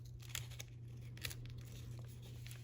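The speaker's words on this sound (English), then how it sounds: "let me see if I could just cut it down some." Scissors trim a cover that sticks out slightly, giving a few brief, close crinkly snips and tearing rustles over a steady low hum, with no talk.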